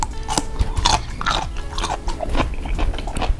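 Close, loud crunching and chewing of a Firehouse Subs sandwich with pickle, with continuous wet bites and crisp crackles filling the whole stretch.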